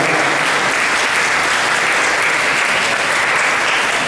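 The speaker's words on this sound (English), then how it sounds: "Give them a big round of applause." Loud, continuous applause from a fundraiser audience honoring community leaders, a thick, even roar of many hands clapping close by with no break for the whole stretch.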